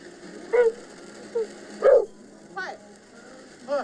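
Dogs on a beach during a family fireworks outing give a few short, scattered barks and yips in the background, under a faint steady hum.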